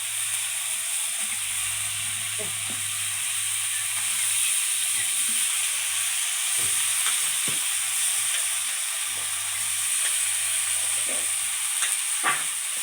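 Tender young bottle gourd sizzles and hisses steadily in a hot pan of spiced oil for a fish curry, with occasional scrapes and clinks of stirring over a constant frying crackle.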